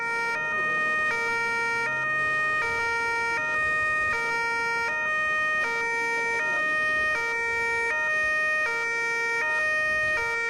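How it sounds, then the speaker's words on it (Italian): Ambulance sirens sound outside a hospital in Treviso, a loud alternating two-tone wail repeating steadily for about ten seconds over faint street rumble. "All'1 in punto le sirene iniziano a suonare"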